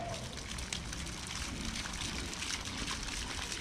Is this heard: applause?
no